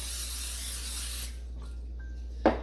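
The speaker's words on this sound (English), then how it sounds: "we have a 9x13 baking pan where we are going to coat it with some non-stick." Non-stick cooking spray hisses into a 9x13 baking pan in one continuous burst, then it stops, and a short sharp clunk follows near the end.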